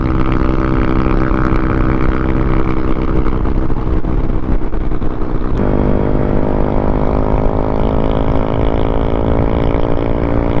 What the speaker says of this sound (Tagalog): Dito na ulit yung Honda Click.